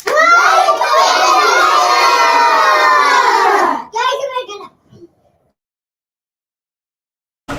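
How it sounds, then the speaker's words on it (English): At an elementary school assembly, a gym full of children cheers and claps loudly for a classmate receiving an award. The shrill shouting and hand noise hold for about four seconds, then fade in scattered bursts into quiet. "Everyone give Fernanda a round of applause."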